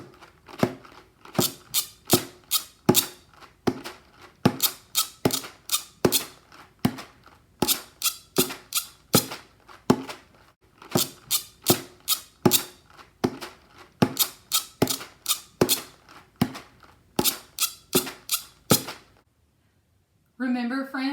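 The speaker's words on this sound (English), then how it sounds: "use my trail mix container in all 3 different ways to make a rhythm pattern for you" Percussive rhythm pattern tapped and struck on a plastic trail mix container, close and crisp, in repeating bars of quick hits with short pauses between phrases, ending in brief silence and a voice.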